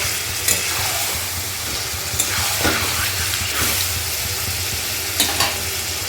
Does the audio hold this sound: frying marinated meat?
yes